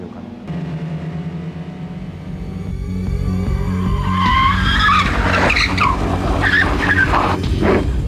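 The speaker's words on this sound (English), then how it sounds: "The cars will be able to skid around." Race cars skid around a dirt track in the PlayStation racing game Gran Turismo 2, engines droning and building as tires squeal and slide in repeated bursts, loud and continuous without speech.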